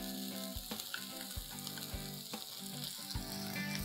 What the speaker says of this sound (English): I'm going to saute this for 3 to 4 minutes on a low flame